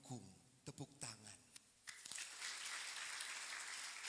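Applause breaks out at a closing Mass for a Catholic youth gathering in West Nias, honoring the supporting nuns; after a few spoken words, a broad wash of clapping from a crowd swells and continues steadily.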